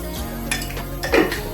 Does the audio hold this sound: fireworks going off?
no